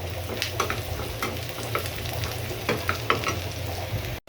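Onion and garlic fry in oil for the tempering of a beef trotter nehari, a continuous close sizzle with light crackles and stirring scrapes, low kitchen hum beneath, and a brief cut near the end.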